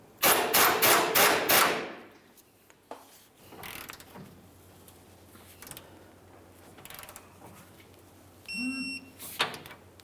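Tools working on rear shock absorber bolts of a 2005-2010 Dodge Dakota: a quick run of loud metallic impacts at the start, then scattered clicks and clanks, a brief beep and a low hum near the end.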